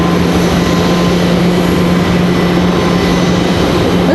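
A United airliner at Raleigh-Durham International Airport, heard as a loud, steady jet engine roar with a constant hum that fills the whole stretch without change and with no voices.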